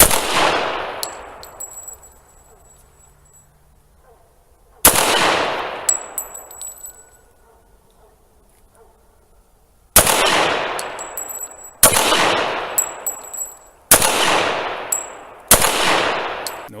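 Six loud pistol shots from a Rock Island 1911 in .45, spaced unevenly a few seconds apart at first and then in quicker succession, each a sharp report with a ringing tail and metallic pings after it.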